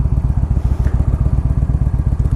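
Twenty-year-old Harley-Davidson motorcycle engine running steadily, loud and close, with a fast, even, lopey pulsing throb and no voices.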